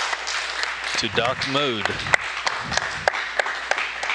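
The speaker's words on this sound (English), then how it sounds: "That's applause you hear." Scattered clapping rises in a mission control room as Boeing's Starliner docks with the International Space Station. A voice speaks over the crisp, sparse claps.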